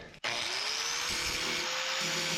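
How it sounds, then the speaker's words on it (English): An angle grinder fitted with a regular grinding disc works on welds along the rusty rocker and cab-corner panels of a Dodge Ram, starting with a brief click and then holding a loud, steady high-pitched whine with a falling tonal band. "starting out just with a regular grinding disc"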